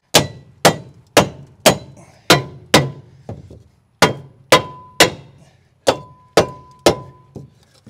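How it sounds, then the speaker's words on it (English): A block of wood strikes a metal jack stand in repeated sharp metallic clangs at a steady rhythm, about a dozen close, loud strikes with short ringing decays. "gotta hit that one with a hammer or something. Block of wood, nature's hammer."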